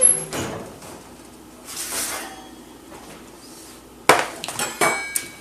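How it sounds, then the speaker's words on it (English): An oven door opens midway through baking homemade granola, with a sharp clack followed by a few glassy clinks and rattles of the tray, close and alone after a quiet stretch. "Let's pull our granola out of the oven."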